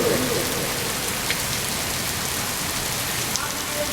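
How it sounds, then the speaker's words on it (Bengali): Heavy monsoon rain pours down in a steady, dense roar that stays even and close throughout, with no voices. "দারুণ প্রচন্ড বৃষ্টি হচ্ছে।"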